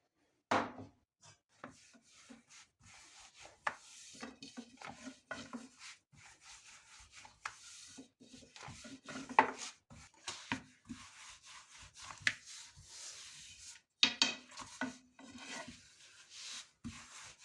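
Thin yufka dough is rolled out with flour on a countertop, making soft, irregular rubbing and scraping strokes broken by occasional light wooden knocks, quiet and close.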